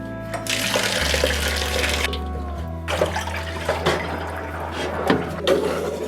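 Tap water runs steadily into a sink while fish pieces are rinsed, with close splashing and handling clatter over the continuous flow.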